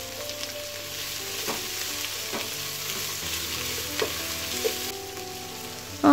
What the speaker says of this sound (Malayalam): ഇതിലേക്ക് നമ്മൾ അരിഞ്ഞു വെച്ചേക്കണ സവോള ഇട്ട് ജസ്റ്റ് ഒന്ന് ഇളക്കിയെടുക്കാം